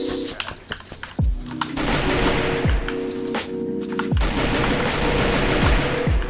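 SCAR rifle fire in the video game Free Fire comes in rapid, close bursts, with sharp cracks and clattering rhythms repeating over a busy background of game noise.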